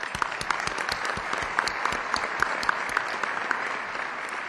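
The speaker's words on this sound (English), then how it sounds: "and let's give them a round of applause." A steady round of applause from an audience at an annual partnership meeting, given for the event's sponsors. Many hands clap densely and evenly at moderate loudness for the whole stretch, with no talking over it.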